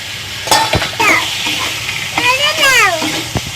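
Chicken is stirred into a sizzling masala of fried cumin and coriander powder, loud close frying hiss with clattering spatula strokes and squeaky scraping against the pan, and no speech.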